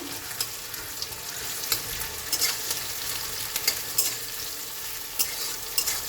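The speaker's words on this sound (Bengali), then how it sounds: "আমি একবার নেড়ে দেবো পেঁয়াজটা" Chopped onion and green chili frying in a wok, a continuous sizzle broken by intermittent stirring scrapes and clinks of a spatula, fairly close.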